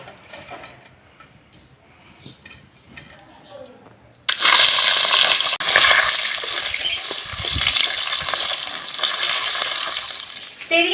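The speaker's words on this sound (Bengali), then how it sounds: "এবার ভাজার জন্য দিয়ে দেব।" A large katla fish head, rubbed with salt and turmeric, hits hot oil in a kadai, giving a sudden loud burst of crackling sizzle that continues steadily after a quieter stretch of kitchen sounds.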